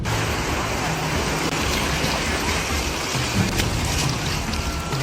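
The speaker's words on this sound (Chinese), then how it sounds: "这个雨哗哗的往江里打" Heavy rain pours into a swollen river during a severe storm, a dense, loud roar of water that stays steady throughout, with faint voices in the background.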